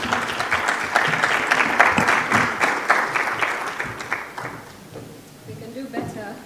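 Sustained applause from a crowd at a Konrad Adenauer Stiftung event in Kenya, steady dense clapping that fades toward the end with a few scattered claps remaining.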